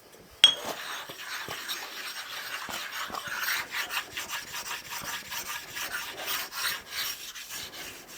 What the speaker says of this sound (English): And do it again on the fine side of the stone.